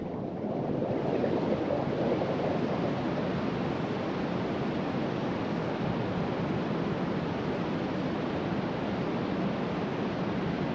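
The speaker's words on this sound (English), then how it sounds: "make time for Box Canyon Falls. It's a quick and inexpensive stop with some cool waterfalls you can get right up close to." Box Canyon Falls in Colorado, waterfalls you can get right up close to, produce a constant broadband roar of rushing water that stays steady and fairly loud throughout.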